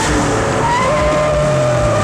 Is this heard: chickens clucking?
no